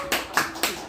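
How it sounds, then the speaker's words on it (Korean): A few sharp claps in a seminary Greek classroom, three or four distinct loud hits spaced roughly a quarter second apart, close and dry. "박수 한번 쳐요"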